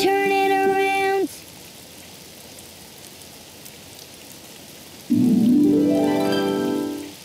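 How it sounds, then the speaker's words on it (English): Steady rain falls outdoors as a soft, even hiss through the middle of the scene, with tonal music-like sounds before and after it. "Oh, it's raining outside."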